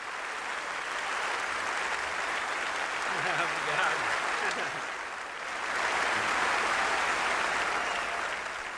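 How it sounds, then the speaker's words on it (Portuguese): Studio audience on a Brazilian morning news programme breaking into sustained, dense applause that swells, dips briefly midway and rises again, filling the room for nearly nine seconds. "Agora sim o aplauso."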